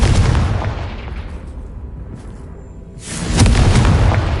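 A Confringo explosion spell in Hogwarts Legacy, a heavy booming blast that rumbles and fades, then a second loud burst erupts with a sustained roar.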